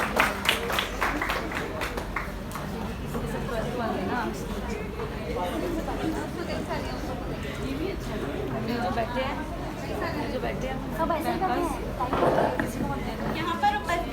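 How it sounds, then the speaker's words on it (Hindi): Audience applause and crowd chatter at a Hindi Divas school event, a steady mass of clapping and murmuring voices filling the hall for about fourteen seconds, swelling slightly near the end. "जोरदार तालियों से स्वागत करिए आतिफा के लिए।"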